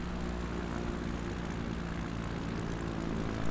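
Steady propeller drone from an XCub light aircraft coming in to land on a runway, heard close from inside the cockpit with an even engine hum throughout.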